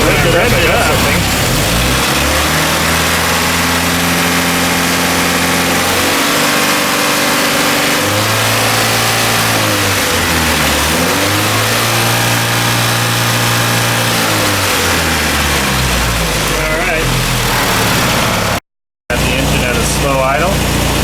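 A Triumph TR3 engine with a Lucas distributor revs up from idle in repeated swells and drops, loud and close, with a person talking over it.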